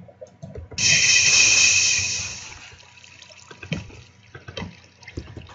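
Water being placed as a block in Minecraft gives a loud splashing, flowing burst that fades over about two seconds, followed by quieter game sounds and soft clicks.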